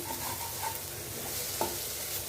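Elephant foot yam stir-fry cooking in a pan, gently stirred over a soft, constant sizzle, with a couple of light scrapes and taps.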